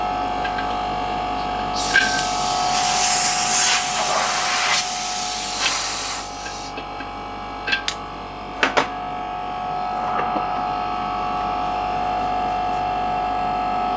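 An air compressor runs steadily with a hissing, humming drone as pressure builds, with a few brief clicks and knocks over the constant noise.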